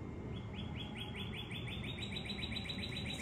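Small bird chirping in a rapid, steady series of short high tweets that carry on through the whole stretch over a constant background hiss, heard indoors near a table where sticker sets are being unboxed.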